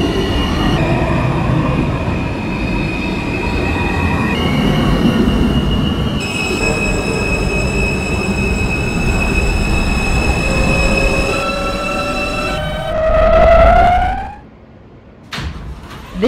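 An R160A NYC subway train on the L line between Canarsie and Broadway Junction runs in the OpenBVE simulator game, with a loud rumbling run and steady motor whines, then rising wheel squeal as it slows, followed by a brief drop and a door-like clunk.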